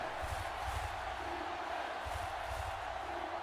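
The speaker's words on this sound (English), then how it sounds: "And the crowd going wild at the Stoats secondary." A football crowd roars steadily in a stadium after a defensive stop, with rhythmic chanting swells rising and falling over the continuous wash of cheering.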